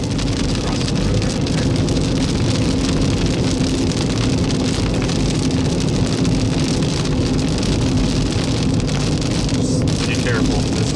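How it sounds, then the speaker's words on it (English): A steady, dense drumming of hail pounds on a car during a severe Kansas storm, a continuous loud rattle filling the whole stretch with no break. "Big time hail coming."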